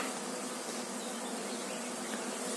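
Dense, continuous buzzing of a honeybee swarm being settled into a new hive, steady and close, filling the whole stretch with no voices.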